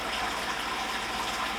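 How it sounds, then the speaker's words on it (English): Wort drains steadily from the grain bed of an Anvil Foundry home-brewing system while a Cascade beer is brewed, a continuous close gushing, splashing flow with no pauses. "I'm going to let that drain. That's draining pretty good."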